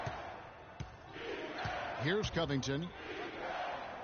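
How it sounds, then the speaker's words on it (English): An NBA basketball arena crowd roars and cheers after a big shot in a close game, the loud sustained crowd noise swelling under a play-by-play announcer's voice. "that bucket ignites the crowd. Crucial bucket there, and you hear it in their reaction"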